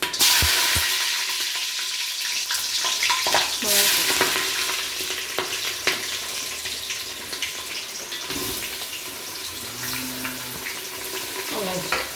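Cinnamon, cloves and green chillies frying in oil in a pan, a loud close sizzle with stirring scrapes and clatter throughout, and brief water-like splashing.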